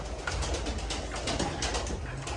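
Pigeons in a loft coo softly and continuously, low throaty calls overlapping in a quiet, close background with no talking.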